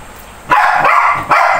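A family dog barks twice, loud and close, two sharp barks in quick succession over a quiet background.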